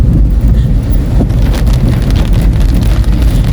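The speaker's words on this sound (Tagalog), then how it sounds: "Grabing ulan na." Loud, dense roar of heavy rain drumming steadily, mixed with rumbling vehicle and wind noise, continuous with no pauses.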